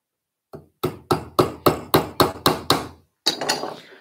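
A hammer taps wooden pins into Adirondack chair parts in a woodworking shop: about eight sharp, evenly spaced strikes, close and loud, followed by a brief scraping rustle.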